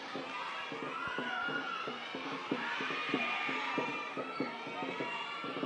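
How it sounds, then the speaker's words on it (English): Young kids in a crowd cheer and shout loudly for the Thailand team at a world championship dragon boat race in Thailand, with rhythmic drum-like thumps beating under the continuous crowd noise. "the young kids in the crowd cheering loud for the Thailand team."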